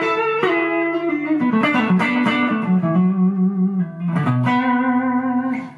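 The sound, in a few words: guitar with slapback delay echo effect from Boss pedal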